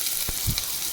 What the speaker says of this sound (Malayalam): നമുക്ക് വേറെ ചട്ടിയിൽ കുറച്ച് വെളിച്ചെണ്ണ ചൂടാക്കിയിട്ട് അതിലേക്ക് കുറച്ച് സവാള വട്ടത്തിലരിഞ്ഞതും